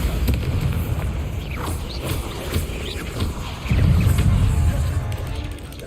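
The Bombarda explosion spell in Hogwarts Legacy goes off as a low, rumbling boom that swells partway through, over a constant bed of in-game noise.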